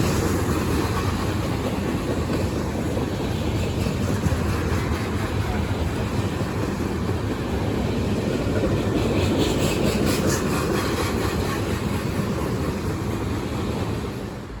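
A Norfolk Southern freight train rolls past close by in the hills near Conway Yard, a loud continuous rumble and rattle of wheels and cars that holds steady throughout.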